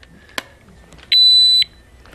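A digital watch alarm beeps once in a steady, bright half-second tone, preceded by a soft click, in an otherwise quiet room.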